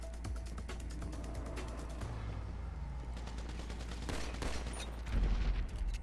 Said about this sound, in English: Oh, I had to reload.